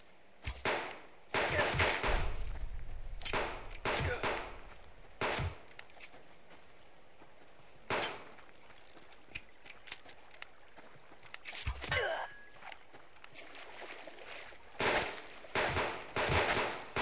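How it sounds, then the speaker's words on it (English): Pistol shots fired in the survival video game Subsistence, a handful of sharp separate cracks spaced a second or more apart, with quiet stretches between them and no talk. "We'll play with the pistol for a little bit."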